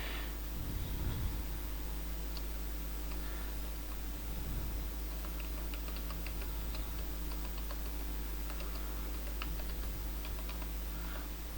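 Soft, scattered key clicks from typing text on a computer keyboard during a design class, faint and irregular over a steady low electrical hum, with no talking.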